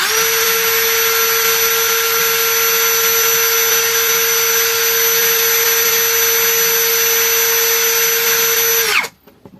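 A Lucid LX60 impact drill runs in drilling mode at high speed, whining loudly and steadily with a sharp tonal hum for about nine seconds, then spins down abruptly to quiet.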